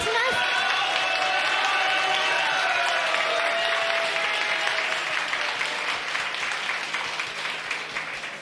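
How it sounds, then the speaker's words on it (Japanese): An audience at the Hamamatsu auto race GI awards ceremony applauds loudly and steadily, the clapping gradually thinning and fading toward the end. "皆さん大きな拍手をお願いいたします。"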